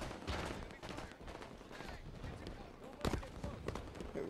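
Rifle gunfire in a Halo 5: Guardians Big Team Strongholds match on the Guillotine arena map, sounding as rapid bursts mixed with busy game effects, with one sharp louder shot near the end and players talking throughout.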